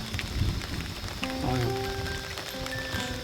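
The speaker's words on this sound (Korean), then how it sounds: "비가 오기 시작하네요." Rain beginning to fall on a reservoir at a fishing spot, steady patter of drops on surfaces with a few faint tonal squeaks, moderately loud and without talk.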